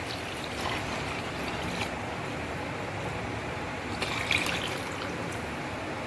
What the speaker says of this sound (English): add water to it, which will be 3 times more than the rice, like 1:3 ratio